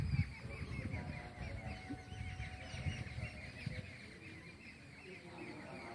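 Birds chirp in a garden, a faint run of small repeated calls through quiet ambience, with low fowl-like clucks underneath and a soft voice speaking.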